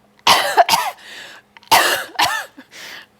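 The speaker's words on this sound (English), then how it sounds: "hold it at arm's length and go ahead and cough a couple of times" A person coughs onto an agar plate held at arm's length: two close bursts of harsh coughing, a pause, then two more, loud and near with no talk.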